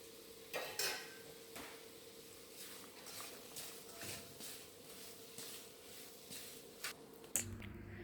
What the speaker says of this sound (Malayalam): ഇതിലേക്ക് നമുക്ക് പൊരിച്ച് വെച്ചിരിക്കുന്ന ചെമ്മീൻ ഇട്ട് കൊടുക്കാം.